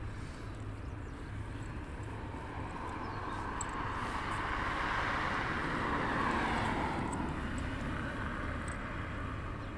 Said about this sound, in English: we've got a first Puma taxiing out now